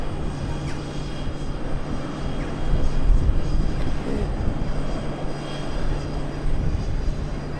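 A fixed-wing aircraft heads out from Amsterdam Schiphol Airport, its engine roar a steady, distant broadband rumble that swells a little midway and then holds, with no voices over it.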